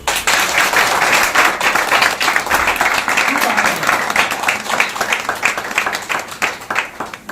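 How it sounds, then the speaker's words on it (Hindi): A church congregation claps together in thanks to God, a dense steady patter of many hands sustained throughout, with a voice faintly audible beneath. "ताली बजाइए।"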